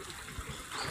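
Water is poured from a container into a biofloc fish tank, a continuous splashing trickle close by that grows slightly louder toward the end, with no speech.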